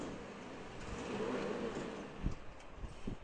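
A Volvo car on rollers with all four wheels spinning, a low steady engine drone with tyre rumble, fairly faint, with a few soft thumps near the end.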